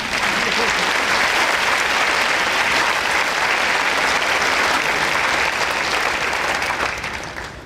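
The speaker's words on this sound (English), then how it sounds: "can we have one more round of applause for this amazing" A high school graduation audience applauds loudly and steadily in a dense, continuous roar of clapping that holds for several seconds, then begins to taper off.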